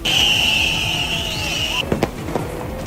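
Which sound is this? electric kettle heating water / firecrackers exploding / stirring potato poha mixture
firecrackers exploding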